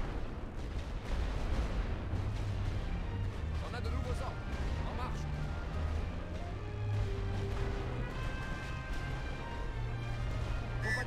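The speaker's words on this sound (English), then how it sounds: "I'll send some light artillery here" Light artillery booms in the World War I strategy game The Great War: Western Front, with a dense rumbling barrage of dull blasts running steadily throughout under game ambience and music.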